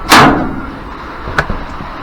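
A hatch on a duck shed at a Ukrainian homestead is opened with one loud, close knock or bang, followed a moment later by a few fainter clunks.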